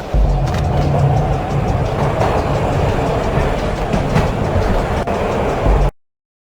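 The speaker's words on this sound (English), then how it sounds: "This was my second train ride of the night." A train ride in the Max Payne video game: a steady, loud rumble of rolling rail cars with low clattering and rattling that continues without a break, then cuts off abruptly.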